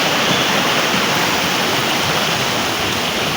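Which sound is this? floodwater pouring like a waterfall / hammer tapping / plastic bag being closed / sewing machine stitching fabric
floodwater pouring like a waterfall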